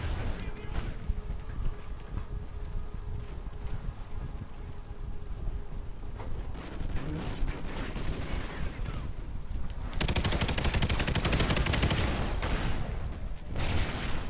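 Call of Duty Ghosts infected and team deathmatch play, with dense bursts of gunfire and booming explosions that grow heavier and louder toward the end.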